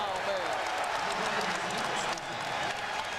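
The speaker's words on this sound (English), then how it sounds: "The crowd responding to the play of Yao." An NBA arena crowd at a Rockets–Nuggets game reacting to a Yao Ming block, a steady wash of applause and crowd noise that stays loud throughout, with a commentator's voice over it.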